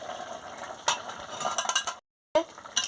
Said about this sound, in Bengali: তাহলে আমি ঢাকাটা খুলে নিচ্ছি